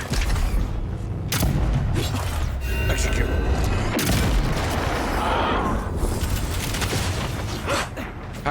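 Gunfire and clattering combat in the video game Avowed, with sharp cracks and booms scattered over a dense, busy din of creaks and mechanical noise, and a voice talking partway through.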